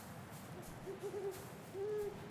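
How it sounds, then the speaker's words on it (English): An owl hoots in the video game Folklore, several soft low hoots in a short group followed by one longer hoot over a steady ambient background. "Nice owl hooting."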